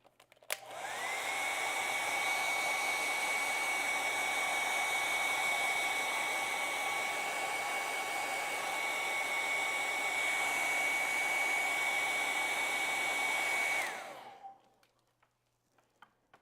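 A hair dryer drying acrylic paint on a Halloween painting runs for about thirteen seconds: a steady, loud whir that starts abruptly, holds even, then clicks off and fades. No one speaks.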